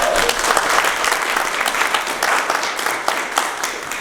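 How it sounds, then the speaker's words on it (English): A crowd at a school district levy presentation dinner applauds loudly and steadily, dense clapping filling the whole stretch without a break. "Give them a big round of applause."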